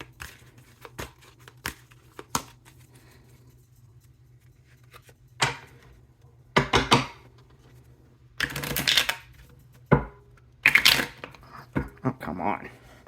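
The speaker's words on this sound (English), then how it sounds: "Let's get a good shuffle on this." Tarot cards shuffled in several short bursts of riffling and flicking, separated by pauses, close and fairly crisp.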